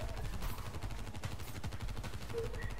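Rapid bursts of shots from an upgraded pack-a-punch gun in the top-down shooter Dead Ops Arcade 2, a steady stream of gunfire over game music with no talking.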